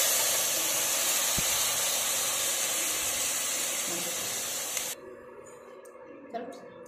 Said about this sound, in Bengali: তো কড়াই গরম হয়ে গেছে বন্ধুরা, আমি এখন কড়াইতে দিয়ে দেবো মাছটা।